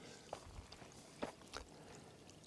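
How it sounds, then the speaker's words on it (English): Tiny woodland stream trickling along a mossy, rocky hiking trail, a faint, quiet burble of water with a few soft splashy drips over low background hiss. "Hope you can hear that little stream."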